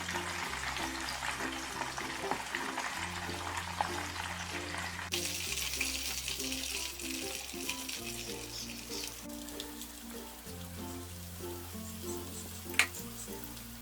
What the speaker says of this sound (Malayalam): ബാക്കിയിരിക്കുന്ന ചിക്കൻ ലെഗും ഇതുപോലെ തന്നെ ഇട്ട് ഫ്രൈ ചെയ്തെടുക്കാം